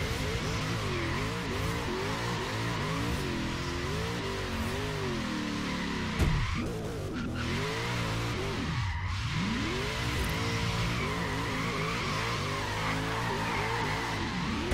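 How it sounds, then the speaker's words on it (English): Continuous engine roar with tire squeal from a car doing burnouts in Forza Horizon 3, loud and steady throughout with a brief dip midway, no talking. "Gonna do some burnouts."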